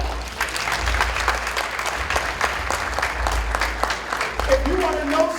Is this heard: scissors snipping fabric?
no